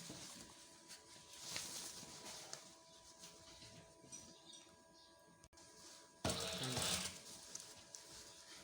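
A sewing machine stitches a shirt sleeve in soft, rapid mechanical patter and ratcheting clicks, with short bursts and pauses, and a louder spell of stitching near the end.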